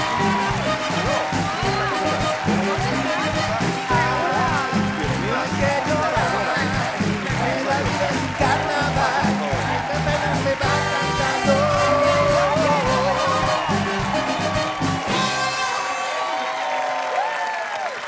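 Loud audience applause with cheering and whoops for guests arriving on a live comedy show, dense clapping and shouts under music that carry on steadily before cutting off near the end.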